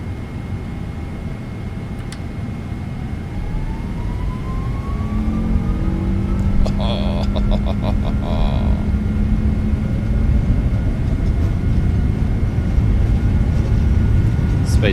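Boeing 777 engines roaring on the takeoff roll in Microsoft Flight Simulator 2024, a steady loud jet rumble with a rising whine and brief clicking cockpit sounds, people talking over it.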